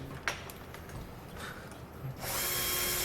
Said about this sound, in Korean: 이게 이제 거의 40개 구멍을 뚫어야 되기 때문에